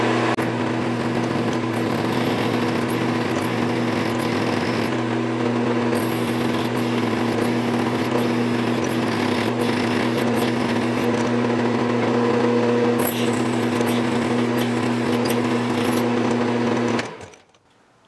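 Steady mechanical whirring of a machine tool cutting stainless steel at a slow, even pace with plenty of oil, making bass guitar knobs, with faint high clicks, running continuously before stopping abruptly at the end.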